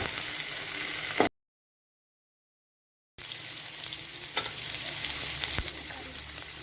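Sliced onions sauté in a pan for onion chutney, a steady close crackling sizzle with stirring scrapes, broken by a stretch of complete silence before the frying resumes.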